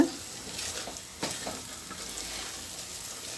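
Sweet ukkarai mixture cooking with ghee in a pan, a soft sizzle and frying crackle with a few stirring scrapes, moderately close and fairly quiet.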